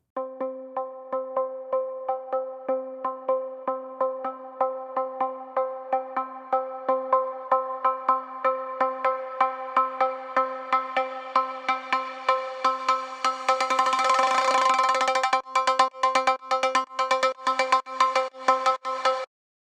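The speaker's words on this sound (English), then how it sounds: "I have this lead that is like a plucky lead" A bright, plucky synth lead plays a repeating rhythmic pattern of short notes, growing denser and louder toward the end with no voices.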